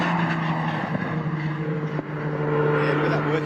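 A Mazda 13B rotary-engined race car at a time-attack event, its steady high buzzing drone loud and sustained throughout, with a brief dip in the middle and a faint tyre scrub.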